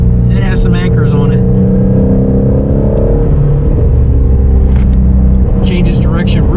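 A Ford Shelby Mustang GT350 engine pulls hard at part throttle, a loud, steady in-cabin drone with rising harmonics, while someone talks over it throughout.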